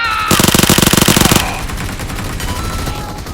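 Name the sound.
gunfire in video game PUBG Mobile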